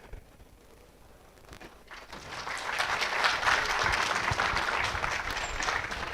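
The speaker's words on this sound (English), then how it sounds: "So you have given a fantastic clap." An audience at a healthcare industry and academia summit applauds at the end of a speech, the clapping swelling in after about two seconds into a dense, sustained round from many hands in a large room.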